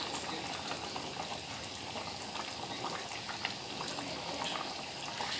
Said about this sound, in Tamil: பாருங்கள், குழம்பு நல்லா கொதிச்சிச்சு